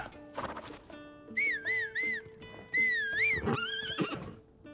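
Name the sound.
whistling for a horse in The Legend of Zelda: Tears of the Kingdom video game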